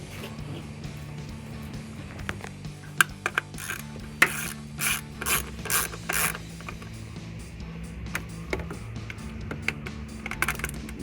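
A ratchet runs down the ignition coil bolts on a 2011-2016 Mustang V6 engine, with close bursts of rapid clicking and scraping over a low steady background hum, and no speech.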